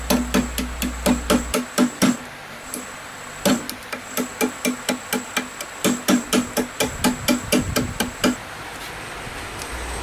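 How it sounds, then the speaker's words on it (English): A 3/4 inch roughing gouge chips a mesquite burl blank spinning on a lathe, giving loud, rapid, regular knocking impacts in bursts with short pauses, close and alone. "I had to start by chipping off all of the rough edges with a 3/4 inch roughing gouge"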